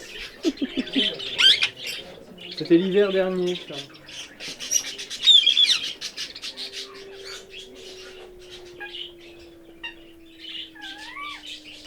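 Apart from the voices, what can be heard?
birds squawking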